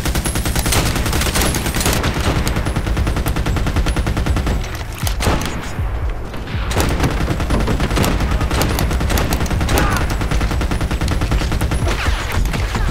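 Dense, sustained automatic gunfire from the video game Army of Two in an oil field level, loud bursts rattling almost continuously with a brief lull midway.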